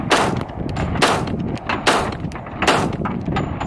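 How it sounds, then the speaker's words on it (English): Unsuppressed .45 subsonic pistol fired outdoors into dirt, with several sharp, loud shots spaced about a second apart and each followed by a brief echoing decay. "So that's 5 rounds unsuppressed."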